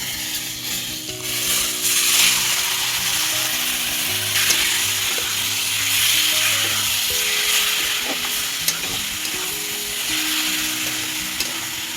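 Taro leaves for a vegetarian dish land in a hot oiled frying pan with cumin, turmeric and coriander powder, giving a steady broadband sizzle with scraping and stirring clatter throughout, fairly loud and close, with low hum underneath and no talking.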